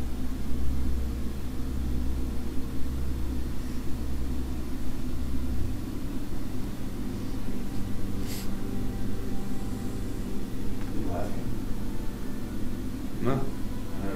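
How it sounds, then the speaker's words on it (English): Steady broadband hum of an air conditioning unit runs throughout at moderate level, with a low rumbling drone underneath and a couple of brief faint clicks near the end; no speech stands out. "That background noise you're hearing is the AC unit."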